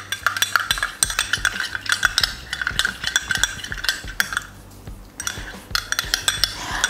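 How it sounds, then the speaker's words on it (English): An egg face mask mixture is stirred briskly in a small bowl with a utensil, giving steady, rapid scraping and clinking taps against the sides, close and fairly loud, with no talking. "then I'll go ahead and mix it up properly"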